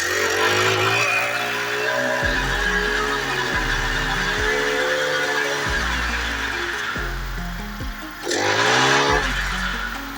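A farm machine's engine runs steadily while its wheels turn under an accelerator lever, giving a loud continuous drone with rhythmic low thumps and a brief rise in noise near the end, with no talking.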